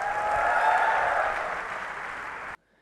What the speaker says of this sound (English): Let's hear it with a huge round of applause for Yassine Aboukir.